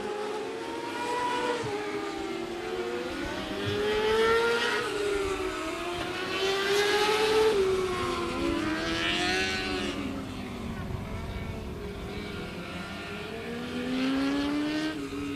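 600cc stock non-wing micro sprint race cars race around the Stuart Raceway track: several high-revving engines whine steadily, their pitch sweeping up and down through the laps, loud and continuous throughout.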